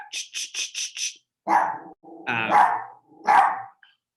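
Dog barking indoors at a delivery: a burst of five quick high yips followed by three louder, deeper barks spaced about a second apart, close and alone.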